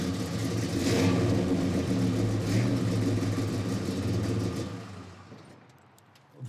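Classic car with a 383 stroker engine revving hard, a deep, throaty rumble that swells and holds close and loud, then dies away toward the end.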